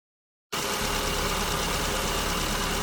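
Car engine idling at about 1070 rpm on an HIF carburetor with a richened mixture, a steady, even rumble that starts abruptly and holds constant, close and alone.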